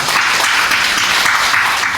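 Audience applause welcoming a guest speaker at a Lenten special lecture in a church hall, a steady dense wash of clapping filling the whole stretch at close range.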